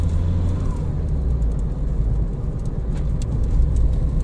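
A car engine runs steadily in third gear while the car drives. The rumble is loud and even, with no talk.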